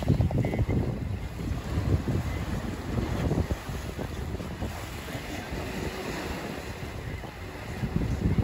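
Sea waves washing onto the beach at Porthcawl, a steady broadband rush of surf with wind buffeting the microphone throughout, no clear individual breakers standing out.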